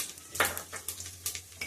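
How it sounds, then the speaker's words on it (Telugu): Dried red chillies, cumin, chana dal, mustard seeds and urad dal are tempered in hot oil in a pan, giving a quiet, uneven sizzle broken by a few scattered clinks of stirring. "ఆయిల్ వేసుకొని పోపు గింజలు వేసుకోవాలి."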